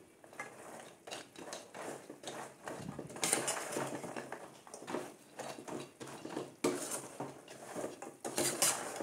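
A spoon repeatedly scraping and clanking against a pan as a thick sweet mixture is stirred, rhythmic metallic strokes close to the listener, with a faint sizzle underneath and no speech.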